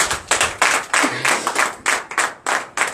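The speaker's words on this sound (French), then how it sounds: "Donnez l'acclamation à Jésus" Congregation at a morning prayer service clapping in acclamation, a loud, close, rhythmic pattern of group claps in regular pulses with no talk.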